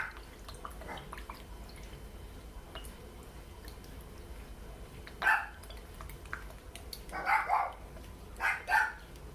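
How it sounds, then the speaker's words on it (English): A dog barks in the background, a single bark followed by a short burst and then two more barks, set against quiet room noise. "Excuse my dog in the background."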